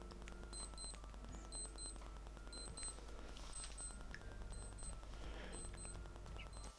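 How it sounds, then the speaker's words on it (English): A Casio G-Shock GMW-B5000 35th Anniversary steel and gold watch sounds its alarm held near the microphone: rapid high-pitched beeps grouped in short bursts repeating in a steady rhythm, quiet and alone. "In terms of the beep, I'm going to put the watch next to the microphone."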